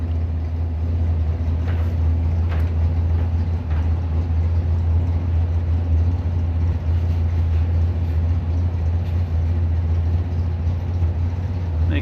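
A 1990 Chevrolet Beretta GT waits at a drag strip lane during a Bowtie Challenge event, its engine idling with a steady low rumble that stays even and fairly loud for the whole stretch, with no voices over it.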